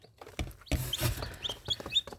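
Several chicks cluck and chirp in short, scattered bursts close by, with a low rumble of background noise.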